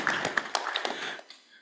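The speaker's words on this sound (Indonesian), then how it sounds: "kita tepuk tangan dulu nih buat Kalsel ya" Indoor audience clapping at a Pilkada 2024 roadshow event, a short burst of scattered hand claps in a room that thins out and fades within about a second and a half.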